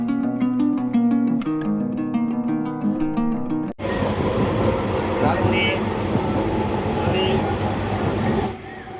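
A Bankura to Masagram local train rolls along steadily, its continuous rumble and rattle filling the carriage, first under a musical passage and then as a dense, loud running noise for the rest of the stretch.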